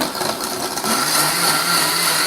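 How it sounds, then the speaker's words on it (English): A blender whirs steadily and loudly as it blends a drink, giving a continuous close motor and liquid churn with no pauses. "You pour it into the blender, and then you very simply just add this on"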